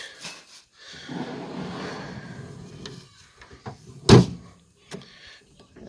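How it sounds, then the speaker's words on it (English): A storage drawer slides out of the canopy on an Isuzu D-Max, a rolling scrape lasting a couple of seconds, followed by a sharp knock and a few lighter clunks close by. "The drawer comes out here."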